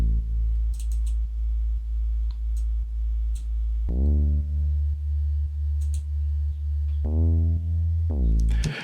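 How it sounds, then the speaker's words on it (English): A deep synth bass line from the Flex plugin in FL Studio plays a loud, steady pulsing pattern, gliding up to new notes partway through, with light ticking percussion above it. "We have a bass line from Flex."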